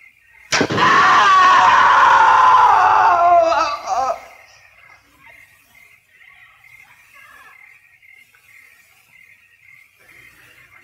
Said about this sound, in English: Sure, I heard a scream.